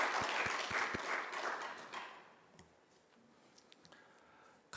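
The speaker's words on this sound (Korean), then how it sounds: "우리 하나님 앞에 영광의 박수 올려드리겠습니다" A church congregation at a worship service applauds, a dense burst of claps lasting about two seconds before fading into a quiet, murmuring room.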